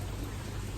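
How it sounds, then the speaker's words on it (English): Heavy rain falling outdoors, a dense steady hiss of drops with no break, close and even throughout. "when I saw that it was raining this hard"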